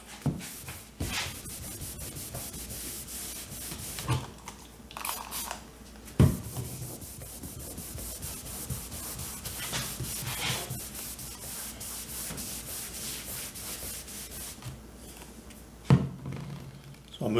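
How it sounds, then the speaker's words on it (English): Paint is dry brushed onto a wooden dresser and wiped back off for a driftwood finish, giving soft, steady rubbing and scrubbing strokes throughout, close and fairly quiet, with a few sharper knocks along the way. "So I'm trying to dry brush it on and then wiping"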